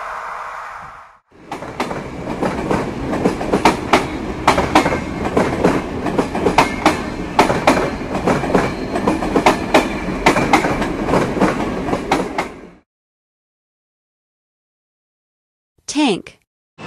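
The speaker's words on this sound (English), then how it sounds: "Freight train." A freight train rolls past close by for about eleven seconds, its wheels beating out a steady clickety-clack over a heavy rumble before cutting off abruptly.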